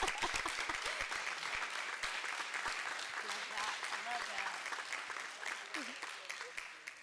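An audience applauding at a school board meeting as an award recipient steps forward, with a thick, continuous patter of clapping from a modest crowd that is fairly quiet overall and thins out toward the end.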